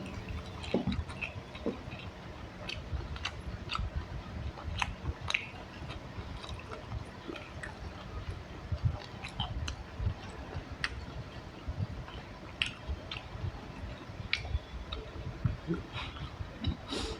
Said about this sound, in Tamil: எலும்பு நல்லா மென்னு ஓடுதா